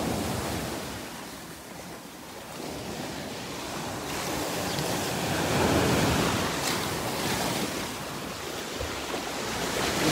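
Ocean waves wash against rocks at the shore in a steady, close roar of surf that swells and recedes, with wind buffeting the microphone and no voices.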